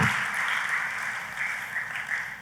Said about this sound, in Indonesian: Tepuk tangannya yang paling meriah buat Tuhan.